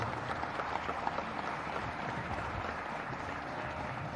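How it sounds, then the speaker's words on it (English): An audience at a public event applauds with a dense, steady patter of many hands that stays at moderate loudness throughout, with no talk over it. "Jayesh Ranjan deserves a huge round of applause from all of you guys."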